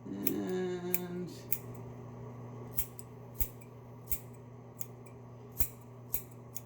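Scissors snipping repeatedly as stray bits poking out between the fingers are trimmed off, close and crisp: a cluster of quick cuts at first, then sharp single clicks spaced out over several seconds.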